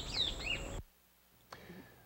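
Songbirds chirp and whistle in brief, high sweeping calls, loud and close for under a second, then a pause and a fainter call or two after.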